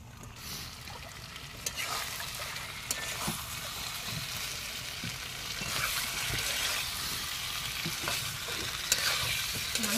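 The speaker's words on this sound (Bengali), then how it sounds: "মাছ আর আলুটা দিয়ে আবার কষাবো।" Fish and potato pieces sizzle and fry steadily in hot spiced oil, with occasional stirring clinks and scrapes over the continuous, moderately quiet crackle.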